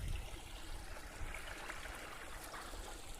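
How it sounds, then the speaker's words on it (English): A river flowing below a path in an arboretum gives a soft, distant, continuous rush of water, faint and steady with no voices. "Look at the river going down there."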